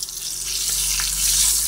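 Whole spices (cardamom, cinnamon, cloves) and a bay leaf frying in hot oil for chicken pulao, a steady hissing sizzle close by, with no voices.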